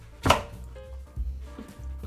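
A knife cuts thin slices of turnip for senmaizuke pickles, one sharp close chop followed by softer cutting taps, quiet between strokes and without talk.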